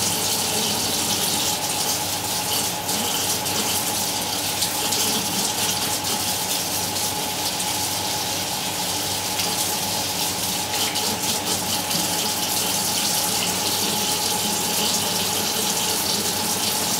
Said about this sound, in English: I'm going to wash my hair with this Oxy